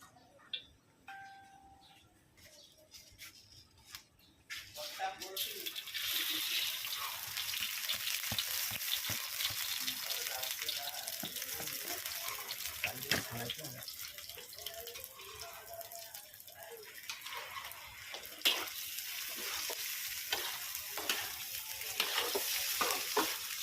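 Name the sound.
rice frying in a pan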